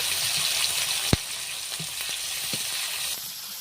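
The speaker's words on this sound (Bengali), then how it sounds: "তারপর দিয়ে দেবো পেঁয়াজ কুচি পেঁয়াজটাকে লাল করে নিতে হবে" Chopped onion frying in hot oil, a steady close sizzle throughout with a sharp tap of a utensil near the start and a few faint stirring scrapes.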